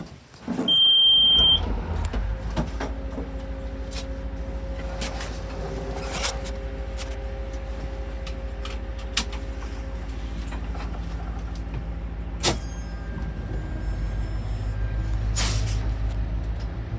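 A fire truck starts moving with a short high beep and a hiss of air brakes, then the engine drones steadily at close range, with occasional sharp clicks and rattles inside the cab.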